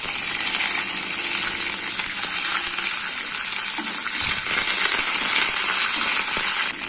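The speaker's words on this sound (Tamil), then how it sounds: "இப்போ கடுகு பொரிய ஆரம்பிச்சிருச்சு" Mustard seeds splutter in hot oil along with dried red chillies, slit green chillies and curry leaves, a dense, loud, continuous crackling sizzle close by with no talk.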